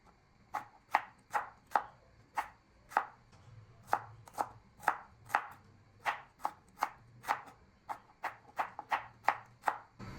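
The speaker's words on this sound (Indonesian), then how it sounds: "Untuk bawang merahnya bakal aku iris tipis." Shallots sliced thinly with a knife on a cutting board, a quick, even series of sharp close taps of the blade, about two per second, alone with no voices.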